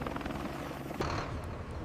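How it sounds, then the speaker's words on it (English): Medevac helicopter flying over desert oil fields in Iraq, a steady loud rotor and engine drone with a brief surge partway through, no voices. "Medevac helicopters can evacuate injured workers to hospitals within 30 minutes"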